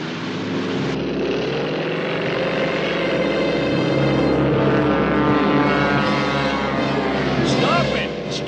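General Urko's airplane drones loudly through a cartoon chase, a steady propeller hum holding under the action, with a music score and voices over it.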